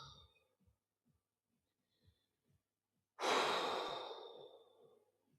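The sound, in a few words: deep breathing while stretching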